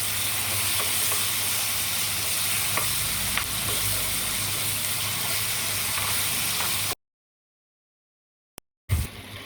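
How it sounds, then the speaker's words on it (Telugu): Blended tomato chutney for a Telugu-style tomato pickle fries in a pan of hot tempered oil, giving a steady loud sizzle with occasional stirring clicks for about seven seconds before cutting to silence and a brief thump. "ఇప్పుడు మనం మిక్సీ పట్టిన టమాటా పచ్చడి వేసుకున్నాం."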